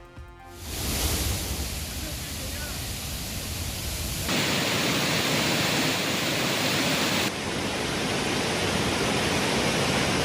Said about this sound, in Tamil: சுருளி அருவியில் கடும் வெள்ளப்பெருக்கு